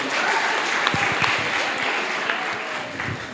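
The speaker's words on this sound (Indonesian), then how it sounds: "Kasih tepuk tangan sekali lagi." Audience applause at a religious lecture by an Islamic preacher, a steady wash of many hands clapping together throughout, fairly loud and even with no voices over it.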